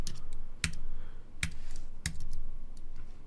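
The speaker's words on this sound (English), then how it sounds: "I'm just typing it out." Keys on a computer keyboard clatter in uneven bursts of quick, close taps with a few sharper louder strikes, while coding into a Bootstrap theme.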